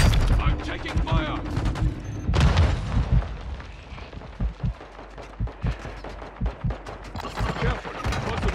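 Gunfire in the Call of Duty: Modern Warfare II video game, a burst of heavy shots and a boom followed by a run of rhythmic rifle fire, with voices shouting over the combat.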